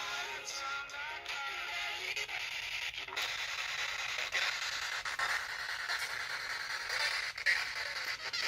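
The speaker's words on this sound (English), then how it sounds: "Whoa, we're picking up radio." Spirit box sweeping through radio frequencies, giving faint continuous hissing static with choppy fragments of broadcast sound cutting in and out.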